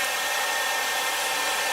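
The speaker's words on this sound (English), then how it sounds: "I'm going to blow my eyelash curler to heat it up." A hair dryer blows steadily at close range to warm an eyelash curler, a continuous broadband whoosh with no break and no talking.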